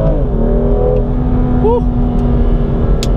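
A BMW M2 Competition accelerates hard on an open road and briefly loses traction. The engine drone stays loud and steady throughout, with a short whistling tone partway through and a single excited shout from the driver.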